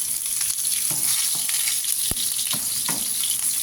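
Sliced onion sizzles steadily in a hot pan, a continuous close frying hiss with occasional stirring scrapes and pops and no talk.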